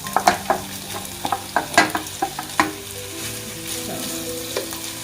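Pieces of beef go into hot oil in a pan for Persian Ghormeh Sabzi stew. Sharp sizzling pops come in quick succession, then settle into a steady, close frying hiss.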